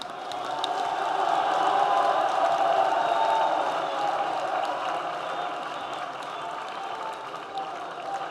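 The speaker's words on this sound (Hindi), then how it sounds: "उसके लिए ये तालियों का शोर" Crowd applause at a political party workers' convention in Karachi, a steady wash of clapping from a large audience that swells and then slowly fades a little.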